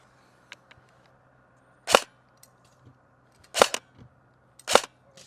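An airsoft gun firing .4 gram BBs snaps off three sharp, separate shots a second or more apart. Small faint clicks and ticks fall between them against a quiet background.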